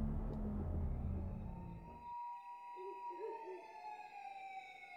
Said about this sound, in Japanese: 応援が駆けつけたことを示すサイレンの音が聞こえてきた